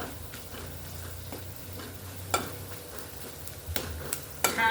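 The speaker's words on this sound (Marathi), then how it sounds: "अशी ही फोडणी परतून घ्यायची गॅस बारीक ठेवायचा आपल्याला" Spice tempering of red chili powder and fenugreek seeds sizzles on low heat as a spoon stirs it in the pan, with occasional sharp clinks of metal against the pan over the constant frying hiss.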